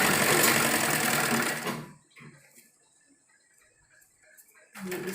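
A sewing machine runs fast stitching fine seams along a kurta band, a steady rapid whirr that cuts off after about two seconds, leaves near-silence with faint handling, then starts up again at the end.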